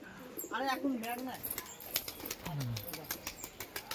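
A flock of domestic pigeons takes off together and flies. Wingbeats come as a run of rhythmic flaps, clearest toward the end, while someone talks nearby and a bird calls briefly.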